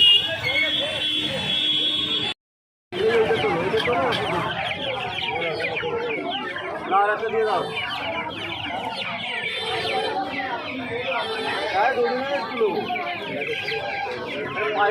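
Chickens cluck and squawk continuously at a busy, crowded hen market in Uluberia, with voices chattering throughout and a brief dropout near the start.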